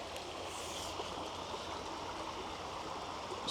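Valley Creek runs past old stone ruins on a wooded Valley Forge hiking trail, giving a steady, unbroken rush of flowing water that stays even and fairly close throughout, with no voices.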